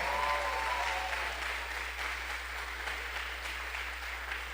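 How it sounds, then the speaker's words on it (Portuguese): Steady applause fills a church evening session as the congregation welcomes a Nazarene pastor and preacher, a dense even clatter of many hands that holds throughout, with a low hum underneath. "receber com uma grande salva de palmas a nosso pregador dessa noite, o pastor Bernard Quirino"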